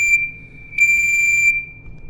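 A piercing electronic alarm in the game Force Entry beeps at a single high pitch, sounding briefly, pausing, then holding a longer loud tone before fading.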